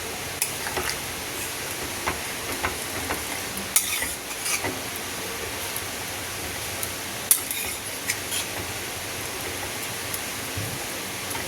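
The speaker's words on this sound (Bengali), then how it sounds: "একটু ফুটে যাক তরকারিটা।" A vegetable and prawn curry with potato, pointed gourd and tomato cooks in a pan after hot water is added, giving a faint, steady bubbling hiss with occasional soft stirring scrapes and clinks.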